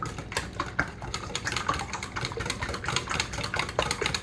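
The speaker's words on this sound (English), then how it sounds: "After I get those whisked up," Eggs are whisked in a bowl, a quick, rapid clatter of a whisk tapping the sides in a steady rhythm, close and continuous without any talking.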